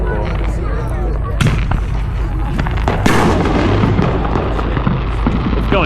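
July Fourth fireworks over Blaine and Birch Bay boom and crackle continuously, with several loud sharp reports over a dense crackling wash, and people talk and exclaim nearby.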